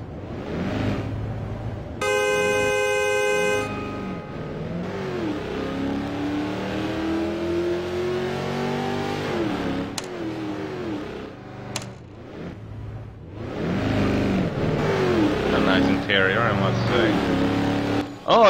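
A car in Garry's Mod DarkRP revs its engine repeatedly with rising and falling pitch, a loud horn blast sounding near the start, while people talk over it.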